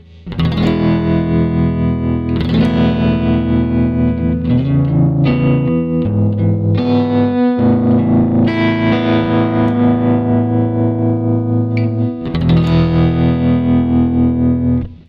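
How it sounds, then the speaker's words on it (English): Electric guitar played slowly through a Kemper's rhythmic tremolo effect, sustained chords pulsing in volume with distortion and light reverb, loud and continuous with no talking. "Starting from the left, this is a tremolo."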